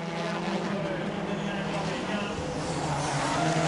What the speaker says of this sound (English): he is still throwing the Impreza eagerly from corner to corner